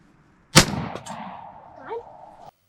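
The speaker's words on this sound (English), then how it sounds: "I had to get her turkey before he got away. I shot a turkey" A single sharp, loud .410 shotgun blast fired at a turkey outdoors, followed by a short fading echo and faint trailing sounds.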